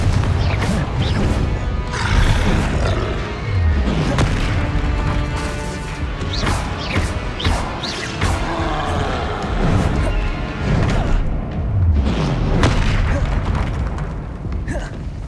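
Repeated Confringo fire-blast spells in Hogwarts Legacy on PS5, a steady run of loud booming crashes and impacts layered over a dense, continuous game soundscape with no talk.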